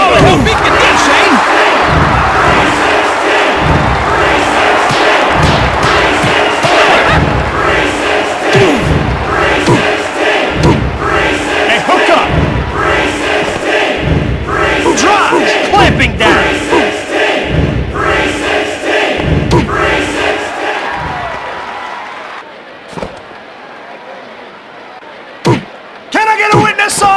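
Roaring arena crowd from the Dreamcast wrestling game WWF Attitude during a tag-team match, a loud continuous wash of cheering with rhythmic thuds and slams, an excited commentator talking over it before the noise drops off near the end.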